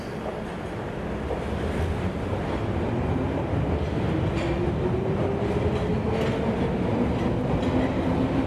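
An Underground train rumbles steadily nearby, a rising electric motor whine climbing over dense low rail and wheel noise as it runs into the station, with no talking.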